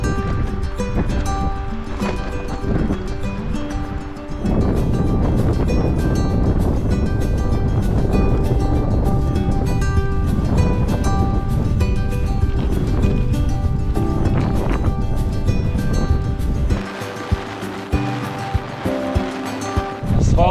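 Strong wind roars steadily across a bicycle ride on an asphalt road in Arizona, with loud broadband buffeting continuing almost unbroken throughout.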